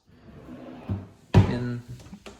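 Kitchen drawers or cupboards opened and closed: soft sliding rumble, then a solid wooden thud with a lingering rattle, followed by a couple of lighter knocks, close and fairly loud.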